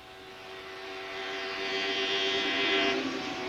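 Formula 2 racing cars with 2000cc engines at Suzuka's 1983 F2 series round: a sustained, high engine whine swells steadily and peaks near the end, with no voices.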